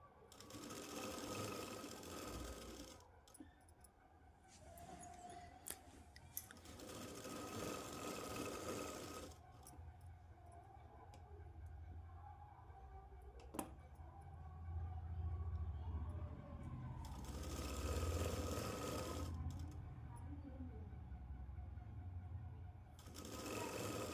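A sewing machine stitching the folded lining of a Punjabi dress, running in several bursts of steady whirring with short pauses between them, near and fairly loud.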